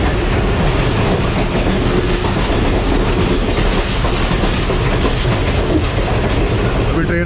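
Tezgam passenger train running on the railway in Pakistan: a loud, continuous rumble with rhythmic wheel clatter heard from inside, steady throughout with a faint squeal near the end.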